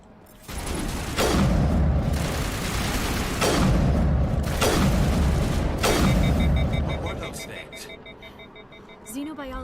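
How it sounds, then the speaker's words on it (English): Rachni workers bursting apart in Mass Effect Legendary Edition, four heavy booming blasts spaced about two seconds apart over a sustained rumble, fading out at the end. "let these Rachni workers explode"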